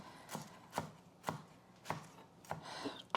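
A knife chopping freshly picked, washed parsley on a board in a home kitchen: six crisp, evenly spaced strokes about half a second apart, close and clear with no talking.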